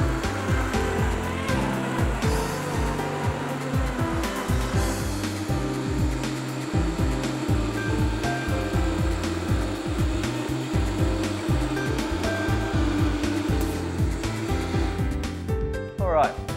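Vitamix blender running at high speed while blending a green smoothie, a loud steady motor whine with a churning roar that holds throughout and rises slightly near the end.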